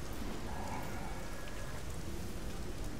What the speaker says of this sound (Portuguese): aqui tem um chuva ácida